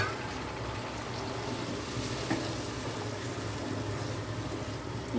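Rohu fish curry with yogurt simmering in a pan as a little gravy is added, a soft, continuous low sizzle and bubbling throughout, fairly quiet, with no speech.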